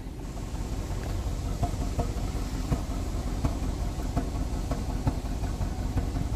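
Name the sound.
car engine running rough, misfiring after PCM replacement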